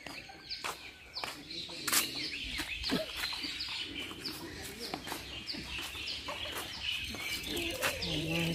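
Long-tailed chickens and bantams clucking and crowing around a temple grounds in Thailand, several birds calling nearby in irregular bursts, with faint talk underneath.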